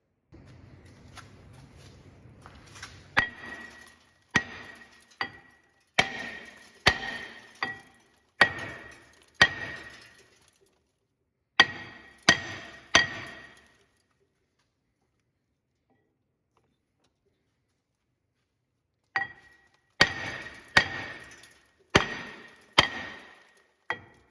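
Sharp metal-on-metal hammer blows strike a seized front brake part on a 2018 Chrysler Pacifica, close and loud, in uneven bursts of several whacks separated by pauses, with a long silent gap before a final flurry.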